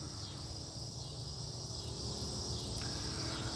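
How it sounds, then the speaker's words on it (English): Crickets and other night insects chirp outdoors in a dense, steady high-pitched racket, continuous and fairly distant with no voices. "I bet you can hear the bugs. They're out here making a racket."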